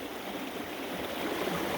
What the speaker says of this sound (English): Sluice box is running really good. I like the way the water's running through it here.